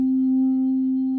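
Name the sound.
Nord organ Hammond B3 tone wheel leakage, extreme vintage setting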